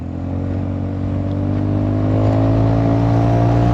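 A Honda Forza 350 scooter with 13-gram light variator rollers accelerates steadily, its engine drone loud and close, rising gradually in pitch and intensity with no talk.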